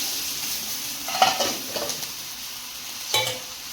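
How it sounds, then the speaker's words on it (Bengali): Chopped garlic sizzles in hot oil in a pan after fish was fried, a quiet steady hiss with a few stirring scrapes and utensil knocks, no talk. "মাছটা ভেজে তুলে নিয়েছি, দিয়ে দেবো রসুন কুচি।"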